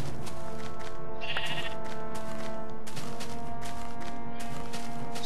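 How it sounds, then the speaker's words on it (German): Sheep bleating in the video game Minecraft, with a flock calling over a busy background of game sounds and music, one clear bleat standing out near the middle. "Hier sind wirklich jede Menge Schafe."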